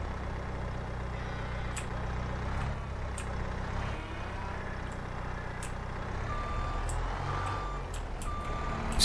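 A large truck in the video game Farming Simulator 22 reverses, sounding a series of evenly spaced sharp electronic beeps over a steady low engine drone.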